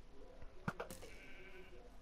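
A sheep in the video game Minecraft gives a short bleat, fairly clear over a quiet background.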